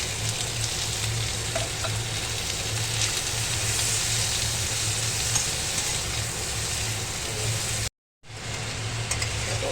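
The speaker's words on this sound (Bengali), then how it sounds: "ভালো করে নেড়ে চেড়ে নিচ্ছি" Capsicum and onion fry over a low flame for chilli paneer, a dense continuous sizzle with soft stirring scrapes throughout, interrupted by a brief moment of silence near the end before frying resumes.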